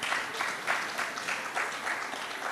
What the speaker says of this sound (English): Those of you that are sitting down, please put your hands together for them